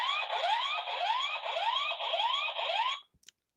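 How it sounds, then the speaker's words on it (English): A Blurams security camera sounds its siren alarm mode, a loud warbling electronic wail that repeats in quick rising sweeps for about three seconds, then stops abruptly, followed by a couple of faint clicks. "This is the siren mode. So if I hit this alarm button, it's going to flash the lights and use a siren."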